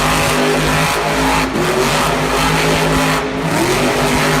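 Gravedigger monster truck at a Monster Jam event in Raleigh, its big engine roaring steadily at high revs through a donut, loud and close with brief dips in the growl and no talk over it.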